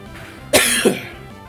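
A single sharp cough in two quick bursts sounds close and loud against a quiet background, with no speech.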